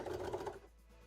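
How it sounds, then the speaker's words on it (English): A sewing machine stitches fabric in a short burst of steady mechanical whirring, then stops, close and fairly clear with no talk. "we're finally doing some sewing. We're going to sew on the black"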